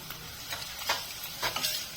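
Turmeric and spices sizzle steadily in hot oil for poha chivda, with a few louder scraping stirs breaking through the crackling hiss. No voices.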